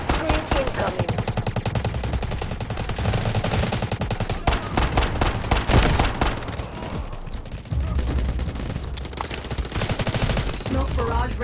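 A Bizon submachine gun fires in the mobile shooter game Delta Force Mobile: rapid automatic bursts in close succession, loud and near, with short pauses between volleys and other game sounds mixed in.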